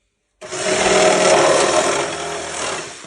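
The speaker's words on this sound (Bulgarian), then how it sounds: "Само сега имаме батерийски ножици." Battery-powered shears cut through material for homemade snow skates, a steady loud rasping buzz that starts abruptly and runs continuously at close range, easing slightly toward the end.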